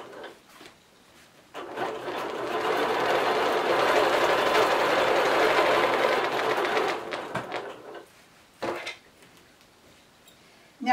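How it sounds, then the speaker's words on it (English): A domestic sewing machine stitches a back-and-forth wavy quilting pattern on a quilt, whirring steadily for about five seconds before stopping, with a few short bursts of stitching afterward. "I'm going to lock stitch and do my sky, which is just a back and forth wavy pattern"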